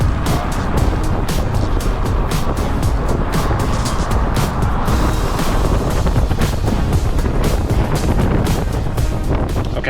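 Lexus SUV with rear-wheel steering, driven hard on a race track during a high-performance driving program, a steady loud engine roar mixed with heavy wind buffeting on the microphone throughout.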